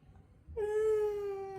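A voice imitates a cat with a single drawn-out, nasal meow after a moment of near silence, close and fairly soft.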